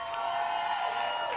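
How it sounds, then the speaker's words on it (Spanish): Audience applause and cheering for the performer La Tupaia at a live show, a faint, steady wash of crowd noise lasting briefly without distinct claps. "Fuerte el aplauso para la Tupaya grandote"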